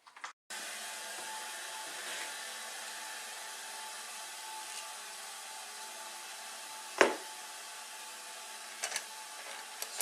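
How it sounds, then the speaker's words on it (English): A wire wheel grinder cleans the threads of bolts, running as a steady, close whirring drone, with a few brief scraping contacts as the wheel bites the metal. "the bolts are all cleaned with the wrench grinder, clean threads off"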